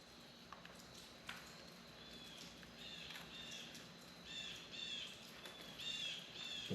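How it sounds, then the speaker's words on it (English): Blue jays call outdoors as short, bright chirps, faint and distant, repeating in small bursts over a steady background hiss, with a few soft knocks nearby. "The blue jays are chirping."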